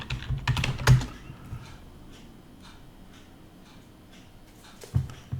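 Computer keyboard keys clatter in a quick burst, followed by a few sparse, softer clicks and a final pair of taps, close and clear with no talking.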